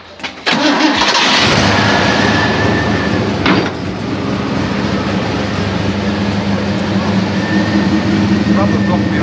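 A 1973 Ford XA GT cranks briefly and fires into life, then holds a loud, steady, rumbling idle close by for the rest of the clip.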